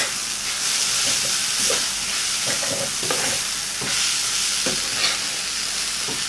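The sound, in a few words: stir-frying Indomie noodles with mushrooms in a pan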